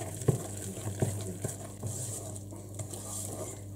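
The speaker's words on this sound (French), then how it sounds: "Je vais mélanger." Banana coconut cake batter with a little baking soda stirred by hand in a bowl, a soft wet churning with a few light clinks of the utensil against the bowl, close and fairly quiet.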